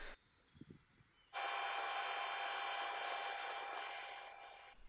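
Wood turning on a wood lathe during an old chair restoration, a quiet lead-in followed by a sudden loud, sustained scraping hiss of the tool on spinning wood with a faint steady whine underneath.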